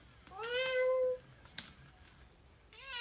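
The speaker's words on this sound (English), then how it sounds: "Oh, she meowed again." A robotic toy cat made for people with dementia gives a drawn-out meow, then a brief click, then a shorter meow at the end, close and clear against a quiet background.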